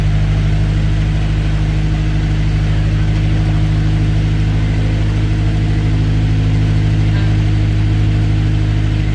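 A narrowboat engine on the River Stort runs steadily at mid revs, a continuous low droning hum with a regular throb, loud and close, with no talking.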